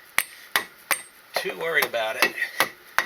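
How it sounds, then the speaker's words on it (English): Rubber dead blow hammer striking a C4 Corvette differential to tap it out, about eight sharp, evenly spaced blows, close and loud, with someone talking between the hits. "If you tap that out, use something like this rubber dud blow hammer"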